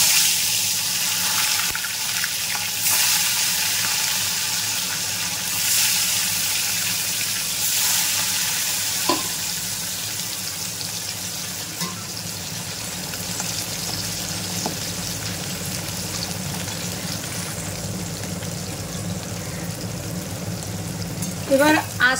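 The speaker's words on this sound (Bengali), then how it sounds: "তেল গরম হয়ে গেছে, এবার আমি গ্যাসের ফ্লেমটা একদম কমিয়ে তারপরে মাছগুলি ভাজবো।" Live bata fish frying in a pan of hot oil over a low gas flame, a steady broadband sizzle and hiss running throughout with a few faint clicks, fairly loud and continuous.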